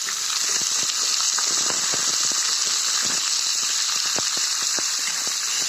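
Onion and ingredients crackling in hot oil for upma, a dense steady sizzle with frequent sharp pops throughout, close and fairly loud, no talk.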